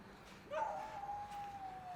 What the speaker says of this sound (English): I got a dog over there.